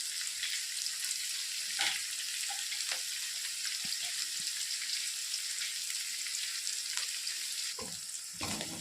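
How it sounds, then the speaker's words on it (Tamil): Onions sautéing in a pan until golden, giving a soft, continuous sizzle with light crackles and a few stirring clinks; fairly quiet and steady, with no voices. "வெங்காயம் நல்லா கோல்டன் கலரில் வந்து வர வரைக்கும் நம்ம வந்து நல்லா வதக்கணும்."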